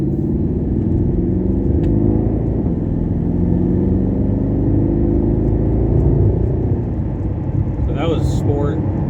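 A 2014 Porsche Panamera Turbo accelerating in Sport mode, heard from inside as a loud, steady low engine and road rumble with a rising whir, with a voice speaking briefly near the end.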